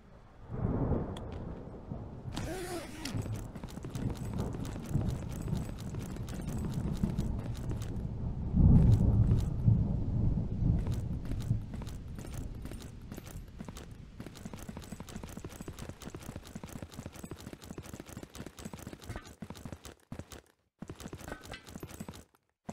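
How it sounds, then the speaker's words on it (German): Footsteps in the video game Zero Sievert, a steady run of crisp, closely spaced steps that grows louder and denser over the clip, with a brief thud partway through and short gaps near the end. "Ich höre Schritte."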